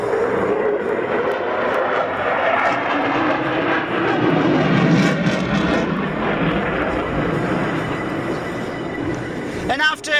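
Eurofighter Typhoon jet fighter flying display maneuvers at a NATO air show, a loud continuous engine roar that swells and fades as it passes, with a commentator talking over it.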